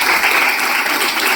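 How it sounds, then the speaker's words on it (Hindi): Loud, dense applause from a seminar audience at a Dauphin Travel Marketing business meeting, sustained steady clapping filling the room throughout. "एक बार जोरदार तालियां मारेंगे साहब अपने लिए।"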